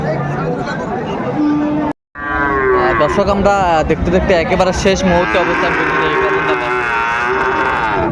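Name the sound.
cattle mooing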